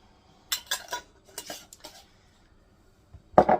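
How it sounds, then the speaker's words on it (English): A spoon stirring salted pickling brine in a pot so the salt dissolves, a few light clinks and scrapes in short bursts, then one sharper knock against the rim at the end. "we're just going to stir that just till that salt gets dissolved"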